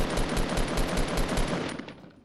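Rapid automatic gunfire rattles in the shooter game Fortnite, a dense burst of close, loud shots that fades out over the final half second.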